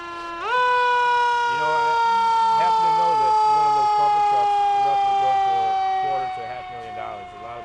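Sirens from a 2007 Pierce Quantum fire engine and a 2016 Demers ambulance in a festival parade, a loud steady wail with a yelping rise and fall that holds for several seconds, then eases slightly toward the end.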